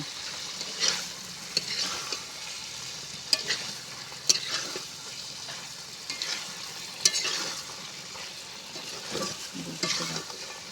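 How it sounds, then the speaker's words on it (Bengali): Fish curry with potato and cauliflower sautéed in an uncovered pan, the spatula scraping and knocking in irregular strokes over a quiet sizzle, fairly close, with no speech. "ঢাকনা তুলে নিয়ে এবার আমি ভালো করে কষিয়ে নেব"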